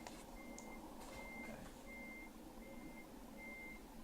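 A reversing truck on the road sounds a steady series of five evenly spaced electronic beeps over a low engine rumble.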